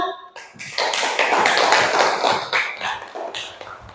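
Students in a school classroom group presentation clapping together, a dense burst of many hands starting sharply and continuing loud and steady for several seconds before thinning out.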